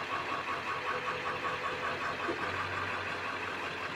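A car engine idles steadily while being parked for the evening after a first drive following a list of repairs, giving a close, even mid-pitched hum with no talking.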